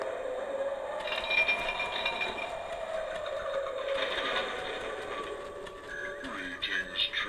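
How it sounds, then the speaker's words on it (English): Mechanical whirring and rattling from a Spirit Halloween animated gargoyle as its chain shakes and wings flap, a steady motorized clatter with a tonal hum, close and moderately loud. "he does that little chain rattle again with a couple more flaps of the wings"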